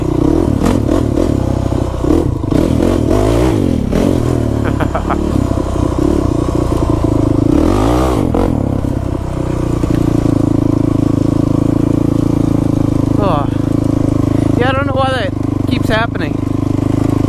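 An SSR 125 pit bike engine idles steadily while warming up, with a rough, continuous mechanical drone and a few brief rising blips near the end, close and loud, with voices now and then over it.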